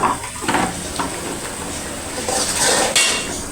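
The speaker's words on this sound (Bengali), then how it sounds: "মেথিটাকে একটু কষাই নিচ্ছি।" Soaked and washed fenugreek seeds fry loudly in a pan, a close, constant sizzle with stirring scrapes and clinks that swell near the end, with no talking.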